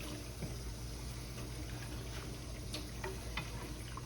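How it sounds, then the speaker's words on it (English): Beef stock pours into a pan in a steady, soft liquid rush, continuous and faint. "we're gonna add our beef stock to this"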